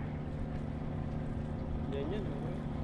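A boat engine drones steadily at a moderate distance on Manila Bay, a continuous low rumble with voices talking faintly over it.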